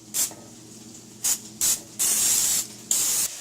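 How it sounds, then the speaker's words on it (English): Several short bursts of canola oil cooking spray hiss close by, followed by a longer continuous spray and one more brief burst, with no talking. "lightly spray it with a canola oil cooking spray"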